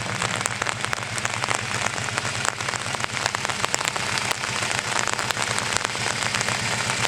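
Steady rain patters densely on a nearby surface in a dense, continuous hiss of drops, loud and close, with no voices.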